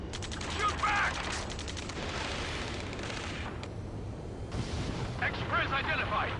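Ace Combat 7 gunfire in a firefight, bursts of rattling shots and heavy rumbling under shouting voices, fading mid-clip and then returning.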